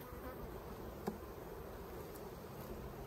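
Honey bees hum around an open hive during a late summer split, a dense continuous buzzing swarm close by with a brief tap partway through, no talking.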